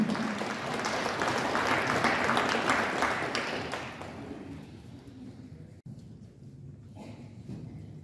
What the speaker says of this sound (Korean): 큰 박수로서 환영해 주십시오.